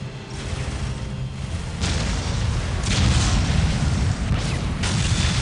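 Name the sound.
Ork artillery explosions in Warhammer 40k Dawn of War video game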